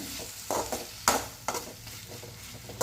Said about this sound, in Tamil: தக்காளி போட்டுட்டு 5 நிமிஷத்துக்கு வதக்கிக்கலாம்